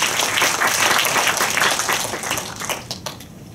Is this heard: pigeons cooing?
no